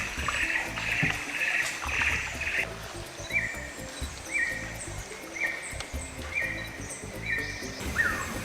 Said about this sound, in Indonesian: suasana sungai yang tenang, suara burung dan hewan-hewan lainnya di sepanjang sungai menemani